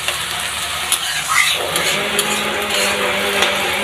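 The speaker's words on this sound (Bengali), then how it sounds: "এখন একটু নাড়াচাড়া করে তারটা ভালো করে লবণ হলুদকে মিশিয়ে দিচ্ছি" Leafy greens with salt and turmeric are stirred in a frying pan, with a steady sizzle and intermittent scraping and clinking of the spatula, close and fairly loud.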